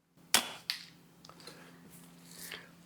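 A Kral Arms NP02 air rifle fires once with a sharp, close crack, then a second smaller snap of the pellet striking a target, followed by faint rustling.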